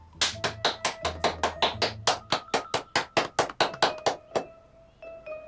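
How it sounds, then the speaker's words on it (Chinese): A small group claps together in a quick, even rhythm, about eighteen sharp, close claps in a row before the clapping stops. "鼓掌，以示祝贺。"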